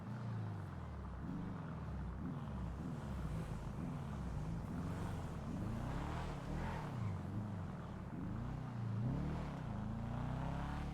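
A Sultan Classic car in a video game drives with a steady engine drone that rises and falls in pitch through gear changes, fairly quiet and continuous, with no talk.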